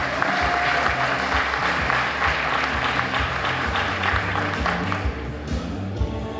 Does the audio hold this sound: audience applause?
yes